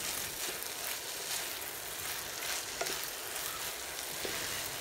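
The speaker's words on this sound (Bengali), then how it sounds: "চালগুলো প্যানে দিয়ে আমি নেড়ে নেড়ে ভেজে নিব।" Rice is stirred constantly as it fries in a pan over medium heat to make pulao, making a dense, soft sizzle with faint scraping and a few light knocks, and no voices.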